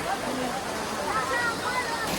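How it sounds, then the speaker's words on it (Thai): Second tier of Hin Phoeng waterfall where people play in the water, a steady broadband rush of falling water with faint splashes and distant voices mixed in. "ก็คือน้ำตกชั้นสองนะคะ เนี่ยค่ะก็มีผู้คนเล่นน้ำอยู่ด้วยค่ะ"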